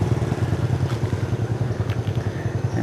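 A motorbike engine idles and putters steadily nearby in a Thai village as parents drop children at school, a low rumbling chug running throughout with faint background clatter.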